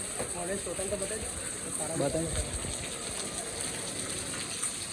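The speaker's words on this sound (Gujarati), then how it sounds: "મિત્રો વરસાદનું વાતાવરણ છે." Steady rain falls on a cloudy, humid day at Mount Abu, a continuous close hiss of drops on surfaces running throughout while someone speaks briefly over it.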